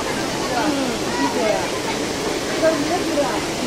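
A small waterfall at an amusement park in Shillong pours in a steady, loud wash of rushing water with no break in its flow.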